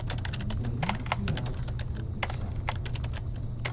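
Typing on a computer keyboard, a quick irregular run of close clicky keystrokes with short pauses over a low steady hum.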